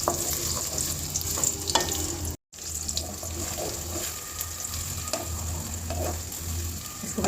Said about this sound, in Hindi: पैन में ऑयल डालेंगे, प्याज ऐड कर देंगे